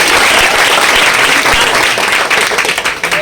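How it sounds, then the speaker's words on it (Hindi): Loud, dense applause from an audience at the opening of a venue in Bhagalpur, steady clapping that carries on for about three seconds and begins to thin toward the end. "तो एक बार जोरदार ताली बजाइए"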